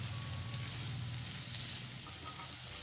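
Chopped capsicum goes into a hot frying pan where chicken is cooking, giving a steady, even sizzle that holds throughout at moderate loudness with no voices.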